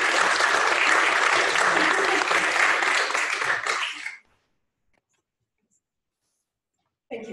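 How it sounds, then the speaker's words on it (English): Audience applause for a keynote speaker at a humanities conference, a loud, steady clapping crowd lasting about four seconds before stopping abruptly into silence, with a brief burst of sound returning at the very end. "let's give her a round of applause."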